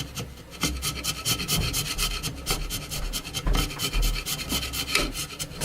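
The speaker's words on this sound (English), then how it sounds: "All I'm doing is chiseling off this rubber silicone, RTV silicone" A chisel scrapes RTV silicone and paint off the frame of a JBL 2226H 15-inch woofer, making close, continuous rasping strokes in an uneven rhythm, with no talking.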